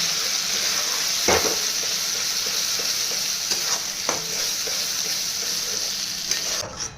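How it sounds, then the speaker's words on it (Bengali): Spice paste sizzles steadily in a hot pan, with occasional scraping stirs and clinks of a spoon against the metal. "যতক্ষণ না এই মশলা থেকে তেল ছাড়ে ততক্ষণ ভাজতে হবে।"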